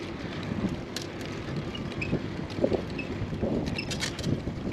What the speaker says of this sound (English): Hopefully the wind's not too much of an issue.